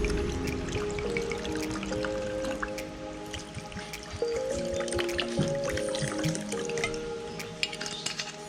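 Water is poured into a Young Living essential oil diffuser, a continuous close trickle with splashing drips that keeps going for several seconds with no talking.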